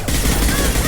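Dense, rapid gunfire from the video game Mass Effect 2, a loud continuous burst of shots filling the whole moment with no talk over it.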